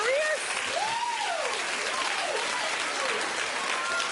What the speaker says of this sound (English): Clap if you watched.